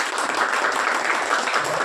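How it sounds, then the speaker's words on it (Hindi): Applause from an audience at a Ganeshotsav cultural program, a steady dense wash of clapping that fills the short moment without a break. "जोरदार ताली इनके लिए।"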